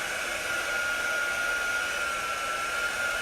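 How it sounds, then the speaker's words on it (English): Heat tool drying ink on a baby onesie, with a heat press plugged in beside it, gives a steady, close blowing whir with a high whine, continuous and unchanging with no voices. "My heat tool sounds like it's about to die"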